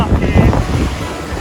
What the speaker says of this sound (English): We're just walking along Merimbula Beach.